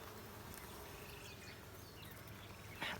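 A steady, low hum of many honey bees buzzing together in an open hive, faint and continuous, with a brief louder buzz near the end.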